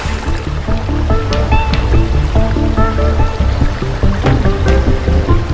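The Reprua, a 27-metre river carrying ice-cold cave spring water into the sea, rushes and gurgles continuously, with bright splashes and bubbling that stay loud and close throughout.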